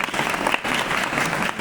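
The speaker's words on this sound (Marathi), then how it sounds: "त्यासाठी त्यांच्यासाठी जोरदार टाळ्या झाल्या पाहिजे." Applause from an audience at an educational guidance talk, a dense steady patter of many hands clapping throughout, fairly loud and continuous with no speech over it.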